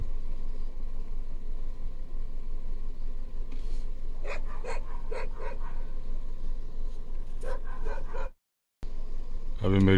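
A lone animal in a tiger reserve barking in a run of sharp calls, distinct over steady outdoor background hiss and occasional nearby voices, with a brief dropout and a low thump at the end.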